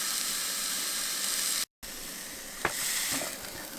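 Food sizzles in a pan inside an ice fishing camp, a steady close hiss broken by a brief silent gap, with a few small knocks and spatters toward the end.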